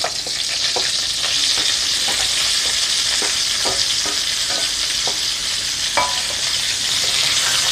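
Garlic is stir-fried in oil for a mixed vegetable and straw mushroom dish, with a bright, steady sizzle close by and repeated spatula scrapes and taps against the pan, no talking.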